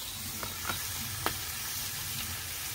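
Hash browns frying on an outdoor Blackstone griddle, giving a steady broadband sizzle with a few faint clicks and taps over it.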